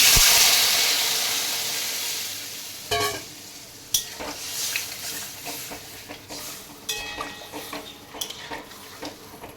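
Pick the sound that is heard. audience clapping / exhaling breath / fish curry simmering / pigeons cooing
fish curry simmering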